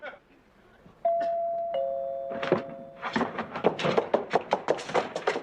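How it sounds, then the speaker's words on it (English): A doorbell chimes twice with sustained ding-dong tones, followed by a rapid series of sharp knocks or thuds at a door, close and clear against a quiet room in a sitcom scene. "It's the doorbell, not the phone."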